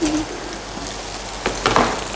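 Onions sizzling in a pan on lowered heat, a steady crackling fry throughout with a few louder spatters and stirring clinks near the end, no voices.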